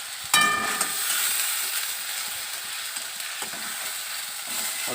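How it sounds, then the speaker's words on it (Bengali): Spices sizzle loudly in a hot pan, a sharp hiss at the start settling into a steady fry with occasional stirring scrapes, close and continuous. "পুরোটা দিয়ে দিলাম এবার একটু নাড়াচাড়া করে নিই"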